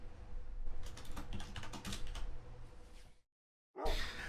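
Rapid clattering keystrokes on a computer keyboard, close and continuous for about three seconds, then a brief silence and another short flurry of keys.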